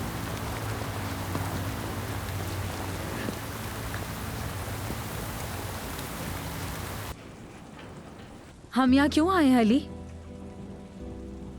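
Heavy rain pours in a steady, dense hiss for several seconds, then continues more softly in the background as someone speaks briefly.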